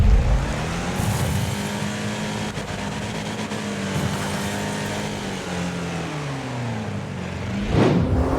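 Cars roar in a Wreckfest demolition derby, engines revving and swelling in pitch as they accelerate, then a sharp burst near the end like an impact, loud and continuous with no talk.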